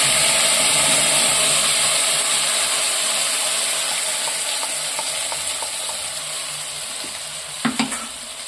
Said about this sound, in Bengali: মিক্সারে যেটা টমেটো আর আদা রসুন দিয়েছি আমি সেটা তেলের মধ্যে তুলে দিচ্ছি